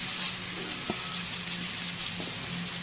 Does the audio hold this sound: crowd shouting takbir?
no